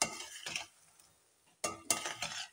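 Okra with chopped green chillies being stirred in a pan, a few short bursts of scraping and clinking spoon-on-metal strokes with faint sizzling, close and fairly quiet, separated by a brief pause.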